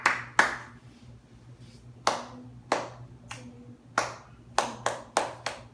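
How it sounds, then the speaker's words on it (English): Hands clap out a counted rhythm during a violin lesson, about a dozen sharp, close claps in uneven groups separated by short pauses, with a faint low hum underneath. "So you have to count and clap at the same time."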